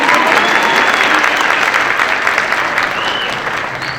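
Audience applause at a high school band concert, a dense, steady wash of clapping from a large crowd that fills the room and tapers slightly toward the end.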